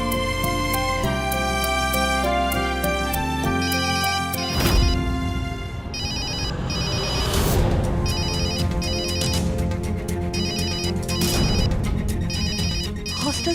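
A phone ringtone plays over a drama's background music, with a steady repeating melodic ring running through the scene alongside a brief crash-like hit, and no voices.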